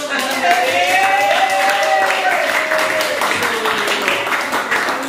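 A teacher claps hands in a classroom, a series of light, regular claps running beneath her continuous speaking voice, which stays louder throughout.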